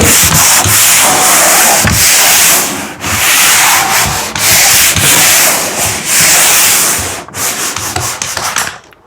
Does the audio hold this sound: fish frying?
no